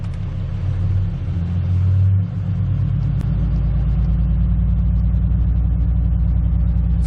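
A 2016 Cummins 6.7 diesel with a 5 inch straight pipe idles with a deep, steady, throbbing rumble close by, and after about two seconds the idle rises slightly and holds at a faster, even pulse.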